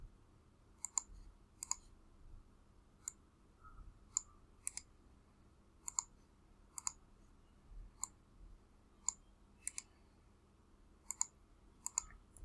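A computer mouse clicks in a spreadsheet with crisp, close, isolated clicks, some single and some in quick pairs, spread irregularly over a quiet room background with no talk.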